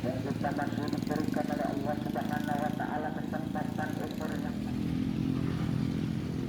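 Motorcycles putter and rev as they cross a steep bridge approach in Klayan, Banjarmasin, a close, uneven engine clatter under a news reporter's voice.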